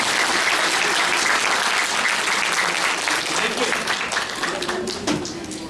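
Audience applause at a church gathering marking a congregation's 25th anniversary in Kathmandu, a dense sustained clapping from a large crowd that fades slightly toward the end, with a brief voice near the close.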